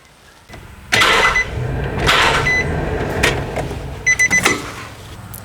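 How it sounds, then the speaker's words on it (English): A Nissan 4.0L V6 being cranked briefly by the starter, a few short whirring bursts with clicks and clunks between them, close by and without speech. "I just want to crank the engine a little bit"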